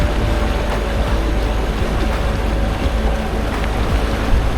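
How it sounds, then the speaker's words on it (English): A Suzuki outboard motor drives a boat on a lake, a constant loud engine drone mixed with wind and rushing water, without voices. "I can hear that Suzuki going"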